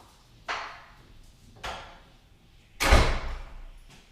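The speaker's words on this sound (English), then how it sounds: "So there's the knock at the door." Several sharp knocks on a door, spaced irregularly, with the third one noticeably louder and more resonant, heard fairly close in a quiet room.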